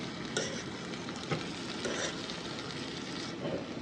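Taco meat frying in a pan on a gas stove set to high, giving a steady close sizzle with a few faint clinks and stirring scrapes, no voices.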